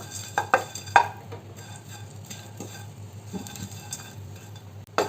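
Dry prawns roast in a pan for a prawn chammandi, a soft steady sizzle broken by several sharp scrapes and clinks of a spatula stirring against the pan.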